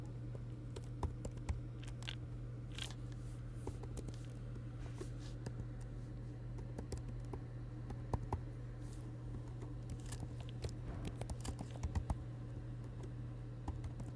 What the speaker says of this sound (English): you will type in your name